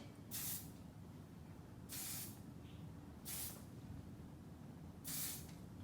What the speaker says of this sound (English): Then we're gonna give her a nice spray down here.